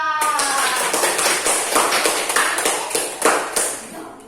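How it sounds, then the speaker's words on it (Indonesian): A primary school class of young pupils claps together for a group that has just presented, a loud, dense burst of many hands with rhythmic accents running throughout, with children's voices mixed in. "tepuk tangan dulu untuk kelompok 2"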